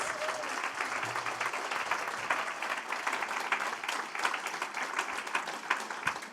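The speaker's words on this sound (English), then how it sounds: "And now I'd like you to give our fabulous wrangling panellists an even bigger round of applause." Sustained applause from a conference audience for a panel, a steady dense wash of clapping held at even loudness from start to finish.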